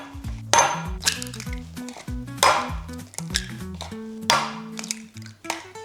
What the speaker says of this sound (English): we are going to crack some eggs in a bowl